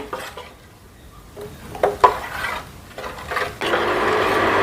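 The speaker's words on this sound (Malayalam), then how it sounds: "നന്നായിട്ടൊന്ന് ഇളക്കാം" A spoon clatters and scrapes against a pot while stirring Kerala coconut curry (kootan) with rock salt, a few distinct knocks, then a steady sizzling wash near the end.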